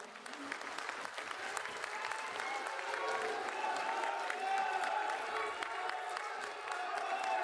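Crowd at a BJP political rally in a vegetable market in Mahendergarh applauding steadily, dense continuous clapping with some cheering throughout, loud and sustained.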